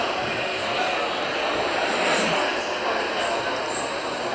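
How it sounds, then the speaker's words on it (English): SpaceX Falcon 9 rocket climbing after launch on the final Dragon 1 cargo flight, a distant broad roaring rumble that stays steady throughout beneath a commentator's voice. "Falcon 9 has cleared the towers, and the final Dragon 1 flight is underway."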